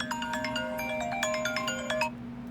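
An iPhone 12 plays a bright melodic ringtone through its repaired top speaker, loud and close, with repeating chime notes that stop abruptly near the end.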